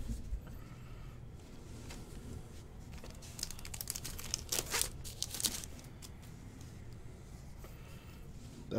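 Wrappers from 2022 Bowman baseball hobby boxes are crumpled and torn, giving quiet, close crinkling with a brief flurry of sharper rustles in the middle.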